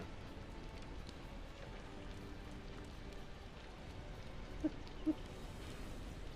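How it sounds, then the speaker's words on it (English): Soft, constant rainfall in the video game Nier Replicant hisses evenly throughout, with two brief louder taps near the end and no voices. "Just listen to the rain."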